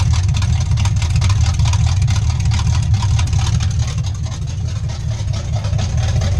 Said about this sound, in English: Let the car run until it gets warm enough to trigger the fans.